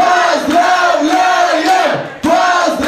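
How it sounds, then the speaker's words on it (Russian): A party crowd shouts congratulations together in loud rhythmic unison at a birthday celebration, several repeated chanted bursts close by with a short pause between them. "А теперь все вместе кричим: поздравляем!"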